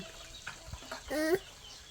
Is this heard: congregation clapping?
no